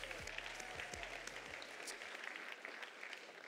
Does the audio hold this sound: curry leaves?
no